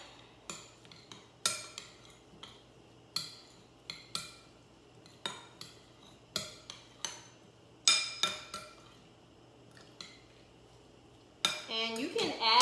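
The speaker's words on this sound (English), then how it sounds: "And then what we're gonna do is just mix it on up." Utensils mixing parsley garlic pasta in olive oil, with a steady run of clinks and scrapes against the dish, close and fairly quiet, ending in a busier clatter.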